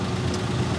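An original, unrestored 1966 Oldsmobile Delta 88 coupe with a recently rebuilt top end idles in a steady low rumble, close by and continuous, with no voices over it.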